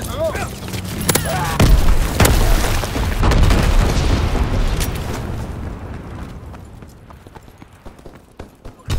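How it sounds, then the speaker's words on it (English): Incendiary bombs exploding in Call of Duty: WWII, a rapid series of heavy booms and bursts layered over each other and fading into a rumbling tail. "Incendiary bombs incoming"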